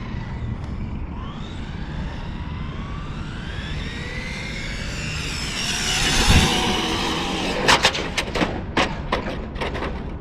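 A brushless-converted Traxxas 4Tec RC car runs as a high electric motor whine that sweeps upward and builds to a louder pass. A series of sharp cracks and pops follows.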